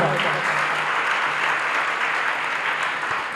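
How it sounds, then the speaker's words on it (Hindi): A seated audience at a Jain sermon gathering breaks into dense, continuous applause, a loud and uniform roar of hands lasting throughout. "एक बार चक्रेश पंडित जी के लिए तालियां बजाओ"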